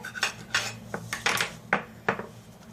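Dishes and a knife being unloaded from a dishwasher, heard as a quick run of sharp ceramic and metal clinks and clatters, close and fairly loud, with no talk.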